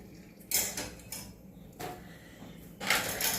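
Dishes are washed at a sink, with intermittent clinks and clatters of crockery and cutlery over running water and a faint background hiss, no voices.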